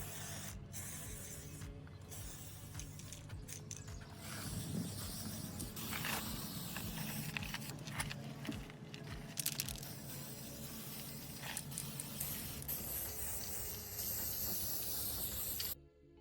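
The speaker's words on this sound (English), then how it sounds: "Try to hold the can upright and spray from about 10 inches away, back and forth." An aerosol spray can applies coating to a boat propeller, giving a steady close hiss of spraying that runs almost continuously, with brief breaks, and cuts off at the end.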